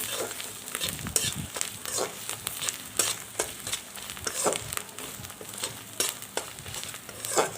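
Grated coconut frying in a pan with turmeric and sugar being stirred in, a steady close sizzle broken by frequent scraping stirs and spatula knocks, with no talking.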